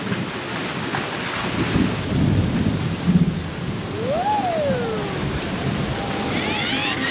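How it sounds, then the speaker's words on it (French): A rainstorm hisses steadily while low rumbles of thunder roll through, with a sliding whistle-like tone rising and falling midway and a brief bright burst near the end. "Il commence à pleuvoir."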